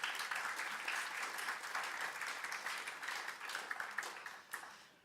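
An audience at a student government association induction ceremony gives a steady round of applause. The clapping is moderately loud and even for about five seconds before tapering off at the end.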